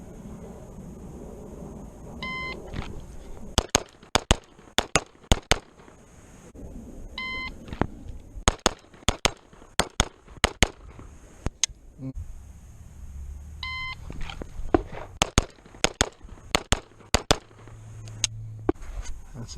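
Shots from an all-steel double/single action pistol on a range, a series of sharp loud cracks fired in quick strings with pauses between, alongside repeated electronic timer beeps.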